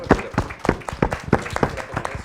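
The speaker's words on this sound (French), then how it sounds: "Je pense qu'on peut applaudir." A small audience claps after a literary talk by authors at a book event, with separate, fairly close hand claps in an uneven rhythm and no voices.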